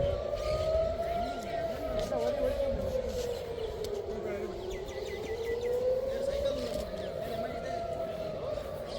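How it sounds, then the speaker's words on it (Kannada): A wailing siren rises and falls in slow sweeps through a birthday celebration, steady and fairly prominent over low crowd chatter and voices. "ಸೈರನ್ ಆವೊಂದುಂಡು"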